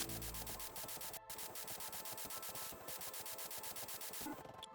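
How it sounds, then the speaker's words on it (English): Welding steel plates in the Space Engineers video game, a dense rapid rhythmic crackling and grinding that runs continuously at an even level with a brief gap near the start. "let's just go on a rampage of welding"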